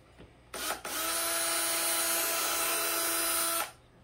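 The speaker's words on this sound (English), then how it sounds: "I'm going to screw it in first" A power drill drives screws into a wooden carved pumpkin tea light holder, giving a short blip followed by a sustained whirring run of about three seconds, close and alone.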